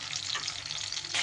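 Ginger and green chili paste frying in hot oil gives a steady, dense, close sizzle that swells slightly louder right at the end of the short burst.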